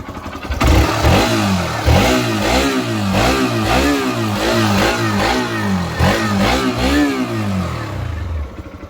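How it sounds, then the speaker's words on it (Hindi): A Hero XPulse 200 adventure motorcycle's engine is revved repeatedly up close, each loud rising vroom dropping back before the next, in a steady run of about a dozen blips before it settles. "अब सुनते हैं इसके इंजन की आवाज़।"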